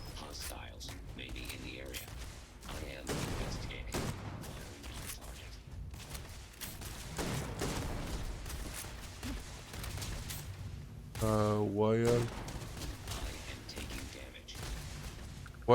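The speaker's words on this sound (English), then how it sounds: "Why are you guys shooting me?" Enemy gunfire in a space video game, scattered bursts of shots beneath steady music and game sounds, fairly quiet, with a person talking over it.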